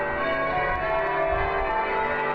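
Cathedral peal bells rung in changes by ringers pulling ropes, a dense continuous wash of overlapping bell tones, loud and steady throughout with no pauses.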